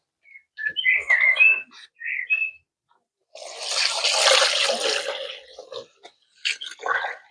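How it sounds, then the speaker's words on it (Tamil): Water poured from a tap over washed red rice to soak it, short gurgling trickles at first, then a louder continuous splashing stream for about two seconds, followed by a few brief drips and pours. "அதுக்கு வந்து தண்ணி விட்டு ஊற வைப்போம்."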